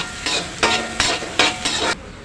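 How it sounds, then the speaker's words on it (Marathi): Tomatoes frying with onions in a pan for Maharashtrian fodnicha bhat, with bursts of loud sizzling and stirring that come in about five regular strokes against a steady background hiss. "टोमॅटो घालत आहे दोन परतून घेते तोही कांद्याबरोबर चांगला भाजून घेते"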